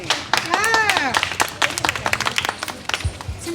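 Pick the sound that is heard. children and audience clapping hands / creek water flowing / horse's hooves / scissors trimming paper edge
children and audience clapping hands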